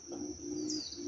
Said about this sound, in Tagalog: Kawawa yung mga ibon.